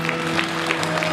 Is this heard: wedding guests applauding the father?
yes